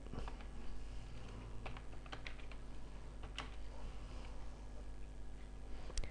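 Keys clatter on a computer keyboard during a PowerPoint 2003 lesson, a faint, irregular patter of individual taps with short pauses, quiet and close with no talking.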